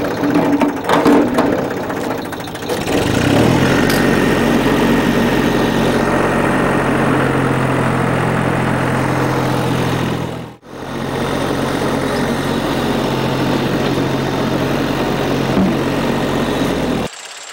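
A tractor engine idles with a steady, loud mechanical drone and vibration, cutting out briefly for a moment midway before resuming at the same even pitch.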